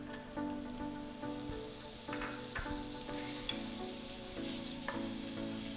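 Onions sizzle steadily in olive oil in a large pot over medium heat, a continuous close crackle with occasional scraping stirs and soft clinks, no one speaking.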